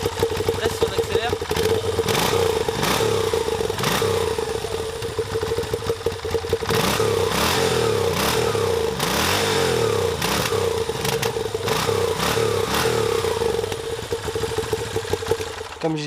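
A 2017 Moto Guzzi V7 II Racer Limited Edition idles with a lumpy, even beat from its engine, broken up by several sharp revs that rise and fall, heard close up and loud.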